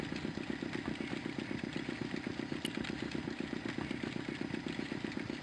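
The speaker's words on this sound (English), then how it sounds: "The engine stopped dead." Engine running in the adventure game Broken Sword II: a quiet, rhythmic chugging idle with regular mechanical pulses, steady throughout and faint.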